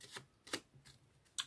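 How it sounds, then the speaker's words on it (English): A deck of playing cards being shuffled by hand, three quick crisp riffles close and faint in a quiet room. "that was a shuffle"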